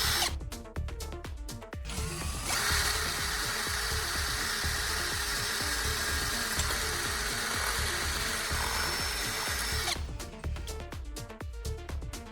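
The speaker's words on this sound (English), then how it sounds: "I'll drill a small hole that is just large enough for the end of the wire to pass through conveniently." A power drill bores a small hole through a stainless steel cup, giving a loud, sustained whine that runs for several seconds between short bursts of clicking and handling noise, with no talking.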